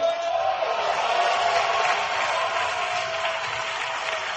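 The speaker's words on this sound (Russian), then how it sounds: "Дайте им аплодисменты." A church congregation applauds, a loud and steady wash of clapping from a large crowd that holds evenly throughout with no pauses.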